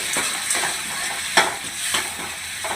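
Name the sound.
tomato sautéing in a pan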